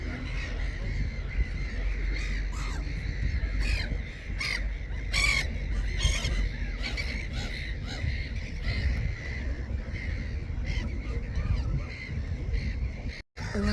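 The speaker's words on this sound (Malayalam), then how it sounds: "ദേശാടന കിളികളൊക്കെ തിരിച്ചു വന്നിരിക്കുകയാണ്" Crows caw repeatedly alongside other returning migratory birds calling, a busy outdoor chorus of harsh calls over steady background noise throughout.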